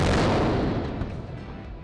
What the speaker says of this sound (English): Insert infamous Booster 7's spin boom here.